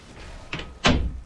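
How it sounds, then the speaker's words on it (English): A bathroom door in a workplace restroom opens with a short creak and latch click, followed by a heavier thud as it swings, close and fairly loud against quiet room tone. "I heard the bathroom door open."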